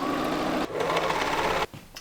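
An overlocker runs steadily, sewing the underarm seam of a baby romper, its fast mechanical whir loud and continuous before stopping abruptly, then a brief quieter burst near the end.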